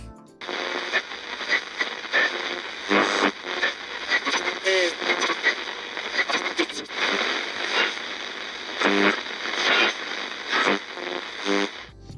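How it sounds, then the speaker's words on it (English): Basic placeholder radio static from a Five Nights at Freddy's game, a continuous harsh crackling hiss with bursts and dips in level, alone and fairly loud throughout. "There's some basic radio static."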